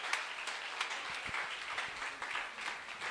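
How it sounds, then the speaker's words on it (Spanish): A church congregation at a Sunday family service applauds, with a dense, fairly quiet, steady patter of many hands clapping at once. "Vamos a darle un aplauso a Jesús."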